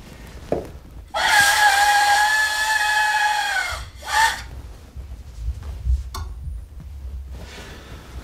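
A loud, sustained whistle blast holds steady for about three seconds, then a second shorter blast follows, with faint rustling and knocks around it.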